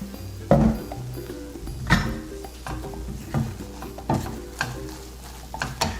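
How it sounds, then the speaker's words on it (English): Scrambled eggs still cooking in a pan after the heat is turned off and salt and pepper added. A utensil scrapes and stirs in repeated strokes over a faint, steady sizzle. "And the eggs are still cooking."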